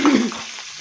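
Cauliflower and mixed vegetables frying in a pan, a brief loud sizzle that quickly settles into a softer steady hiss.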